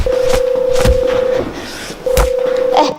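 Phone call connecting in a Sakura School Simulator school drama, heard as two long steady ringback tones separated by a short gap, with faint background sounds underneath.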